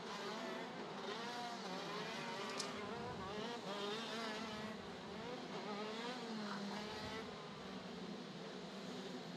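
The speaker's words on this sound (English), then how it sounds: "Almost 50 horsepower being generated by each of these 125cc KZ2 engines" Several 125cc KZ2 racing karts, each engine making almost 50 horsepower, whine and buzz together on track during a WSK Super Master Series final, the pitches rising and falling steadily with no clear break.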